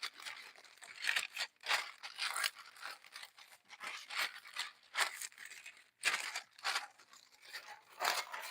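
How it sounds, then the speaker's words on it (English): Parchment paper crinkling and rustling close by during a diamond art painting session, a faint run of irregular crackling bursts with brief pauses, no talking. "the parchment paper is going to make the same crinkling sound"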